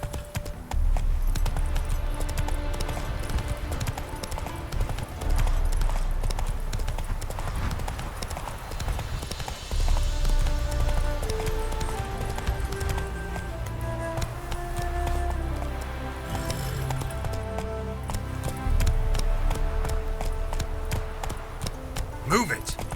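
Roach the horse galloping in The Witcher 3, a steady fast run of loud, close hoof clip-clops that continues for the whole stretch, with game music and a voice heard over it.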